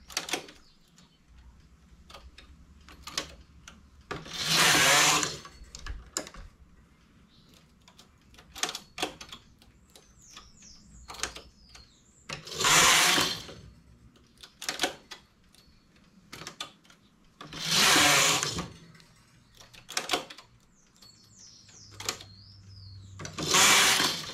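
A domestic knitting machine carriage sweeps back and forth across the needle bed while shaping a double V-neck trim, giving loud whooshing, clattering passes at regular intervals with quieter clicks and ticks between them.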